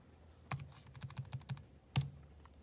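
Fingers tap out a short run of soft, quiet clicks on calculator keys, with a couple of firmer presses standing out against a faint background hum.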